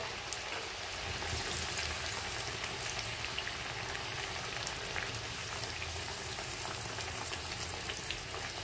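Bhagar puris deep-fry in hot oil with a continuous dense crackling sizzle and bubbling, steady and close throughout, with no talking.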